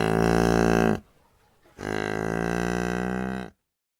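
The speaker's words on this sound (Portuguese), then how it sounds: "Som da vaca." A cow gives two long, deep, resonant moos, close and clear, separated by a short pause.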